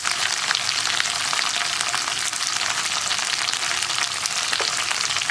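Curry leaves hit hot oil in a pan for an okra stir-fry, giving a loud, dense, continuous crackling sizzle that holds steady for several seconds, close by and with no voices.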